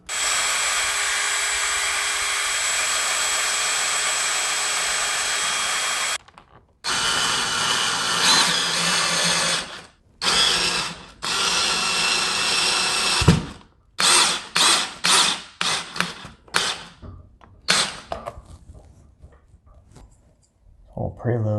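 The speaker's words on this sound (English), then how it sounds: "Then mark and drill the holes." A power drill whirs loudly in long steady bursts, then in short choppy spurts with pauses between, close up, drilling holes for curtain rod brackets.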